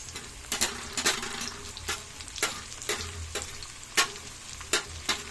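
Bell pepper and green chili being stirred in a hot frying pan, a steady close sizzle broken by repeated sharp scrapes and clacks of the utensil against the pan, with no talking.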